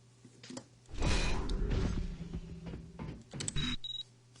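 A door opens and closes in a level built with Unreal's Kismet scripting, making a loud mechanical grinding slide that rises and fades, followed by a shorter clunk, over a low background hum, with no voices.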